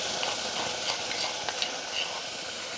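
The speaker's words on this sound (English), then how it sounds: "Now that's going to make a spattery sound here" Salsa spattering in a hot pan, a dense, steady hiss and crackle with small pops throughout, loud and close, with no voices.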